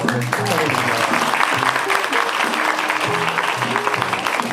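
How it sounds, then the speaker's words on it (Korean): Audience applause rings out at a barista team championship awards ceremony, continuous and fairly loud, with voices and tonal sound running underneath the clapping. "박수로 네."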